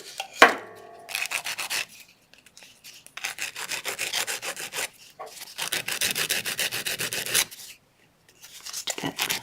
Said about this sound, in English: you can take a little sandpaper or a file to it